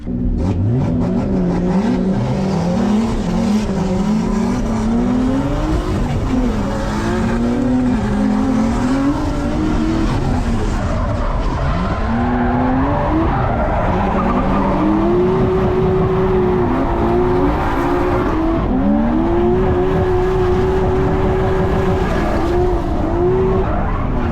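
A Nissan R32 Skyline drift battle against a Subaru at an LZ World Tour event in Canada, with loud, continuous engine revving, rising and falling pitch, and tire squeal throughout; no talk.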